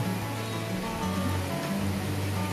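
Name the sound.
waterfall at Cibodas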